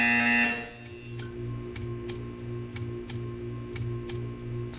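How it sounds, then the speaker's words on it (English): A game buzzer from Portal 2 sounds as a loud blast at the start, then gives way to a steady electronic hum with a series of sharp, evenly spaced ticking pulses about every half second. "You will hear a buzzer. When you hear the buzzer, stare at the art."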